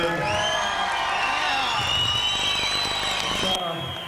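A large crowd at a fight event in Melbourne cheers loudly throughout, with whoops and shouts forming a dense, continuous roar that fades slightly at the end.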